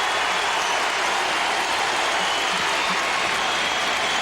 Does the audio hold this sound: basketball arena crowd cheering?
yes